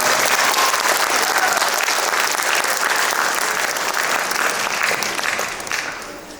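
A crowd at an Onam 2024 celebration held by a Kerala association in Las Vegas claps loudly and continuously, the applause tapering slightly toward the end.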